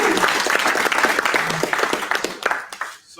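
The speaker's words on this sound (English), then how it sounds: "Let's give them a round of applause." An audience applauds presenters at a startup pitch event, a full burst of clapping that thins toward the end, with a few individual claps standing out as it fades.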